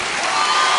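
A French TV talent show studio audience applauds and cheers for a singer in a steady, loud wash of clapping and crowd noise that holds for under a second.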